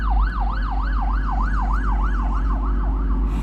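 A police car siren in Los Angeles wails, rising and falling in a steady repeating cycle, loud and continuous over a low rumble of traffic noise.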